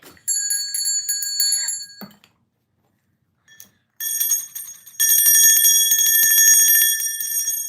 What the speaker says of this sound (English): I got a lot of bells over here today.